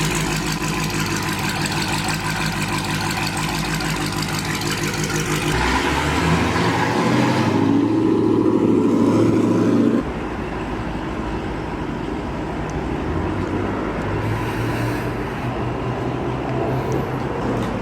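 Infiniti Q60 driving on a road trip, a steady loud engine and road drone from inside the car, the tone shifting partway through as the car changes speed.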